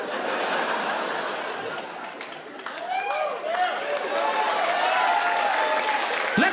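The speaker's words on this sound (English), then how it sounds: "How fucking dare you keep everyone clapping?" An audience at a stand-up comedy show applauds steadily throughout, dense clapping filling the room with scattered laughter mixed in, sustained and fairly loud.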